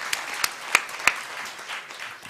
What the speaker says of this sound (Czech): Takže poprosím vás potlesk pre pani Jermolájevu.